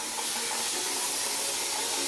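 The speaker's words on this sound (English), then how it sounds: "Gonna saturate the hair using my TD Curl Cousin Curl Kit spray mist" A fine-mist spray bottle spritzing water onto type 4 hair, a steady close hiss held without a break and no one speaking.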